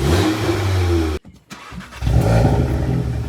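A VW Golf Mk7.5 R runs with a loud, steady engine note, then cuts out abruptly for a moment before the idle-to-rev roar swells back up close by.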